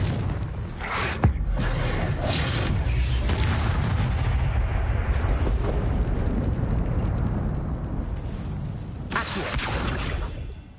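Confringo blasting spell cast in Hogwarts Legacy, a loud fiery explosive roar with sharp bursts near the start and end, continuous and close.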